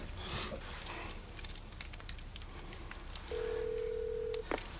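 A phone number is dialed: faint soft presses, then a steady mid-pitched tone lasting about a second, then a short click, over quiet room background.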